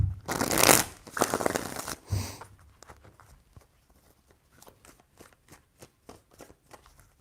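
Tarot cards riffled and shuffled by hand in a few loud bursts, followed by softer, sparse taps and slides of the cards, close and without talk.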